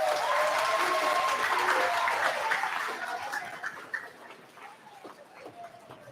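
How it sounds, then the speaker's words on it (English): Audience applause at a middle school awards ceremony, a dense, sustained patter of many hands that gradually thins and fades over several seconds, with faint voices underneath near the end. "let's give everybody one final round of applause today"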